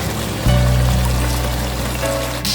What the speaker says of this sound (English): I'm going to add some beef stock. Yes, some beef broth into